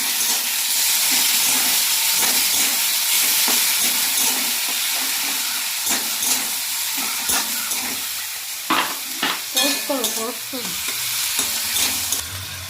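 Chopped tomato dropped into a hot frying pan for a banana-flower dish, a loud continuous sizzle and hiss with stirring scrapes and clinks toward the end.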